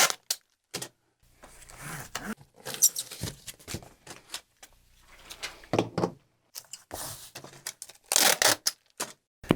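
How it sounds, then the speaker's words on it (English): Packing tape is pulled and pressed to seal a package of artwork for shipping, heard as repeated sharp ripping and crackling bursts separated by quiet gaps. "and tape it shut"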